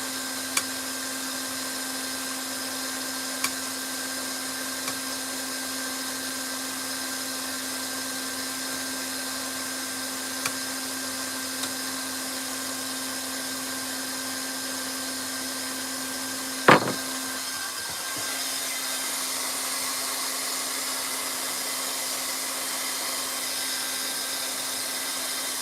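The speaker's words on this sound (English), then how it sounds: "So I can set this welder to any temperature really." A heat welder for fishing rod repair blows hot air in a steady, even drone with a faint whine, broken by one sharp knock near the end.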